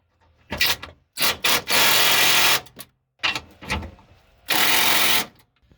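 Ten-millimeter bolts being backed out on the fuel pump of a 2020 Ford Super Duty F250, heard as several short bursts of whirring power-tool rattle separated by pauses, close and fairly loud with no talking.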